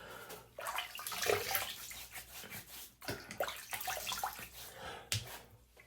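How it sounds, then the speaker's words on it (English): Water splashed onto a face at a sink during a shave routine, a run of irregular wet splashes and drips, close and fairly faint, with short pauses between handfuls. "Now I've splashed my face."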